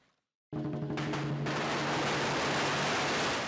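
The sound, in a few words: firecrackers at Chinese New Year lion awakening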